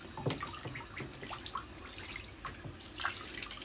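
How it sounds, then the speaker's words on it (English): Soft splashing and dripping of shallow bathtub water as ducklings paddle and bathe, faint and close, with small irregular splashes throughout. "they've moved up to the bathtub for their baths"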